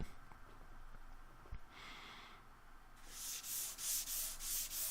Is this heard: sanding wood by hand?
yes